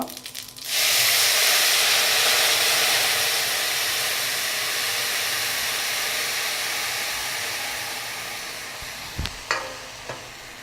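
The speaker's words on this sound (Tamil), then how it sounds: "இந்த புளி தண்ணியை நம்ம விடலாம்." Tamarind water poured into a hot pan of mustard-seed tempering bursts into a loud, sustained hiss and sizzle that slowly fades over several seconds, with a few light clinks of a utensil near the end.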